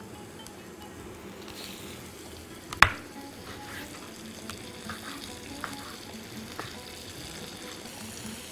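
Chicken pieces fry quietly in a pan with a soft, steady sizzle, broken by a sharp clack of utensil against pan and a few light stirring knocks.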